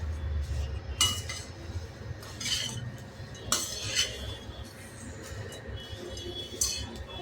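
Metal spoon scraping and clinking in a pan as poha chivda is stirred with the gas switched off, a steady run of close scrapes and taps, with no talking.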